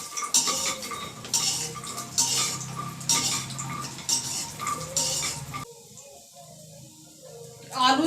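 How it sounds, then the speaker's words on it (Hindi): Soya chunks frying in hot oil in a home kitchen pan, with a steady sizzle under scraping and clinking of a spoon or spatula against the metal pan; stirring is busy at first, then quieter toward the end. "तेल हो गया, तभी पहले इसमें मैं सोयाबीन की बड़ी डाल देती हूँ,"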